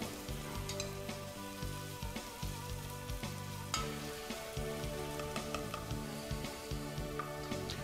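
Onion sautés gently in a pan, a soft, continuous crackling sizzle with faint stirring scrapes, quiet and close, with no voices.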